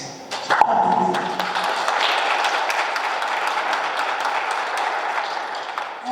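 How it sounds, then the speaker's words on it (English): A church congregation at the Enoch Mgijima centenary celebration claps hands in a dense, steady burst of many overlapping claps that fills the room throughout. "Clap hands for that."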